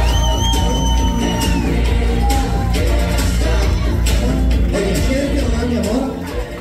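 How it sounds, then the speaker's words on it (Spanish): A TV studio audience at a Chilean-style variety show applauds and cheers for a contestant, a loud, dense crowd roar with whoops and shouts over music, holding steady for several seconds before easing off. "tiene que ser fuerte los aplausos para Isadora Montiel"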